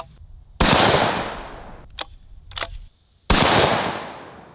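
Bolt action rifle fired outdoors at a range: two loud, close gunshots with long booming tails, separated by a couple of softer metallic clicks from cycling the bolt.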